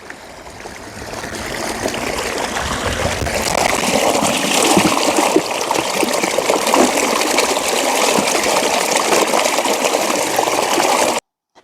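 A stream runs close by, a continuous rushing and gurgling of water that swells a little after the start, stays full and even, then cuts off abruptly.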